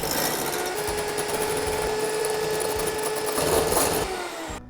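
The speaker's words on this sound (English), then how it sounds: "Then using a hand mixer, we're going to mix this." An electric hand mixer beats soufflé pancake batter in a bowl with a continuous, loud, close buzzing whir and some rattling, running steadily for the whole few seconds.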